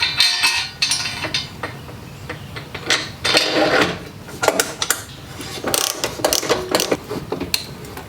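A pannier rack is bolted onto a Milwaukee Packout mount with a ratchet, close clicking pawl bursts and metallic clanks in uneven spurts separated by short pauses, with no speech.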